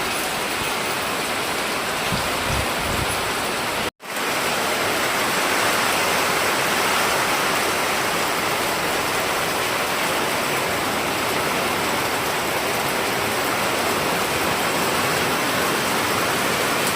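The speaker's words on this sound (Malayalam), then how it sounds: "മഴ." Heavy rain pouring down in a steady, dense hiss, loud and unbroken apart from a momentary dropout early on, no voices.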